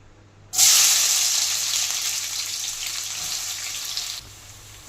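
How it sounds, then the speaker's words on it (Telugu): Thinly sliced onions dropped into hot oil for a chicken fry piece biryani, starting with a sudden loud hiss that settles into a steady, close sizzle of frying for several seconds before cutting off. "ఇప్పుడు మనం సన్నగా తరుక్కున్న ఆనియన్స్ దాంట్లో వేసేస్తాము."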